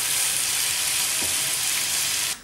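Green beans sautéing with salt and spices in a hot pan give a steady, loud broadband sizzle, a continuous frying hiss that cuts off abruptly near the end.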